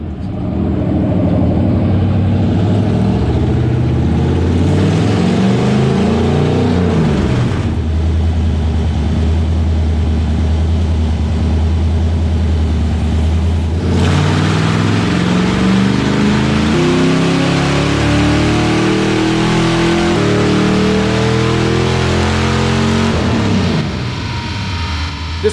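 A naturally aspirated 351 stroker engine makes its first pull on a dyno, roaring loudly and continuously with the pitch climbing and dropping through the run, close and dominating throughout.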